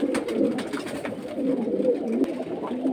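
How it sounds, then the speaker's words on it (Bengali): Caged pigeons at a bird market coo steadily, a close, overlapping chorus of low, throaty burbling calls with faint rustles and flutters behind them. "এই যে দেখুন এখানে কিন্তু খুব সুন্দর সুন্দর কবুতর আছে"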